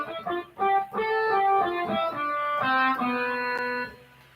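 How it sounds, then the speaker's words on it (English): Electric guitar played through a tube amplifier, a run of clean, warm plucked notes and short chords in a steady melodic line, close and fairly loud, with no voices. "you have an E guitar running through a tube"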